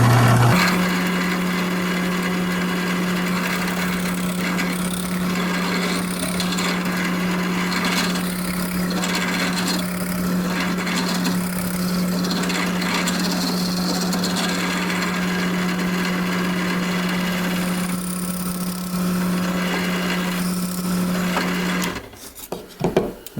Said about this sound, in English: So let's move to the drill press.